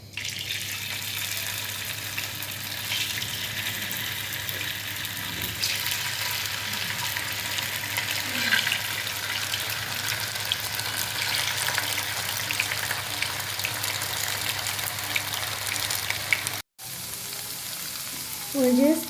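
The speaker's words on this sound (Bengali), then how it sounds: "তেল গরম হয়েছে, এবার আমি ওয়েজেস দিয়ে দিচ্ছি।" Potato wedges fry in hot soybean oil over high heat, giving a loud, continuous, close sizzle that barely changes, with a short break near the end and a few faint knocks afterward.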